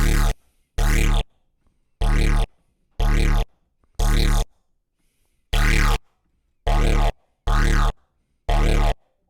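A synth lead plays ten short, evenly spaced bursts with a bright, vocal, mouth-like tone, separated by silence, close and fairly loud.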